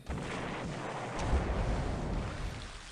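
Heavy bomb blasts from 1,000-pound bombs in a WWII naval war game set in 1942, a dense, continuous rumbling roar with a louder booming surge midway, sustained without speech.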